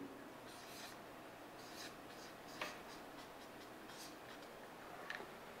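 A pen writes inside a large circle drawn on paper, making faint, soft scratching strokes in short irregular bursts, close but quiet.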